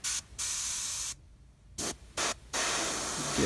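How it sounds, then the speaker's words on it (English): Short bursts of aerosol spray coat the backbone of a 3D-printed fishing lure, several hissing blasts of varying length separated by brief silences, close and loud. "Just going to spray this backbone a bit"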